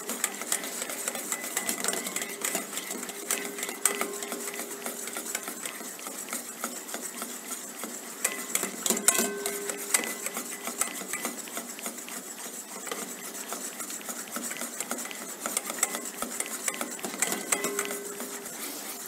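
Butter being whisked into hollandaise sauce, steady scraping and clinking of a whisk against a bowl over a double boiler, continuous and fairly close with small metallic ticks throughout.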